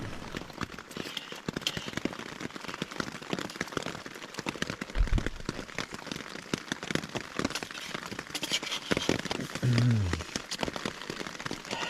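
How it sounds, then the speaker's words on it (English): Rain pattering steadily on a tent while camping on the Australian Alps Walking Track, dense crackling drops up close with occasional heavier gusts, plus a faint voice. "The joys of camping in the rain."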